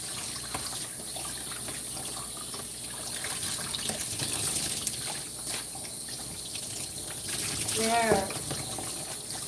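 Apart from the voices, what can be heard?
warm water running while rinsing a dog during grooming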